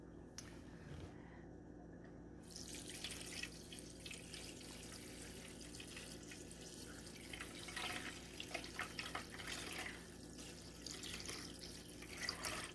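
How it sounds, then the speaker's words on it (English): Dried sea moss being rinsed under running water, a continuous splashing tap flow with wet squishing and dripping as it is handled, close and fairly quiet, with no talking. "We're going to first rinse it off with some water."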